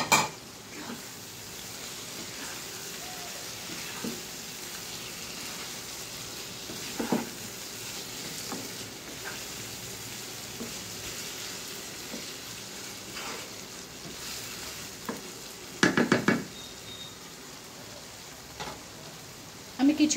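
Pointed gourd (potol) fries in a pan for a potol posto dish, a steady soft sizzle running throughout, with a few brief clinks and a short cluster of louder knocks near the end.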